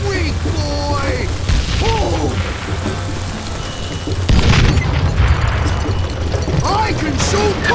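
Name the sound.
dynamite explosion in the video game Call of Juarez Gunslinger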